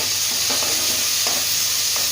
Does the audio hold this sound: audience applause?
no